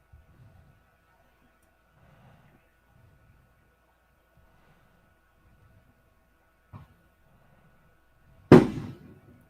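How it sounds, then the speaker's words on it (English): Neighbors' fireworks pop outside a house: one faint distant crack, then a single loud sharp bang with a short fading tail, amid otherwise quiet room sound and faint murmurs. "I mean, I know it's fireworks, but they legit sound like people are popping off rounds outside of your house."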